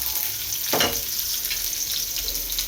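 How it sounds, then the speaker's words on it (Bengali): Chopped onions dropped into hot white oil, a sudden burst of crackling sizzle that settles into a steady bubbling fry, close and fairly loud, no voices. "আমি সাদা তেলের মাঝে আমি 2টা পেঁয়াজ কুচি করে কেটে রেখে দিয়েছি, পেঁয়াজটা দিয়ে দিলাম।"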